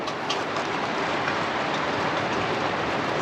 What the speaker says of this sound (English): I don't know if you can hear it, but it's pouring down raining out there.